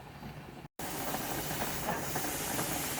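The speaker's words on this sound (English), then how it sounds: "you see what's happening here where that's building up pressure and steam" A pressure canner used for canning turnip and mustard greens builds pressure and hisses out a steady, loud stream of steam that is broken only by one brief gap.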